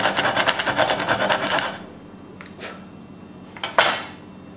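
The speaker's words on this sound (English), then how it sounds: "I'm going to take the saw." A hand saw cuts a toy arrow shaft with rapid, close, rasping back-and-forth strokes for under two seconds. A few isolated scrapes and light taps follow.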